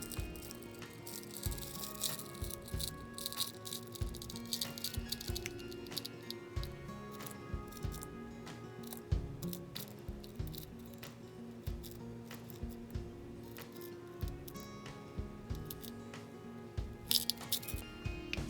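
Gemstones for an orgonite power dome are handled and scooped for measuring, giving a steady run of small clicks, clatters and light rattles close by, with no talk.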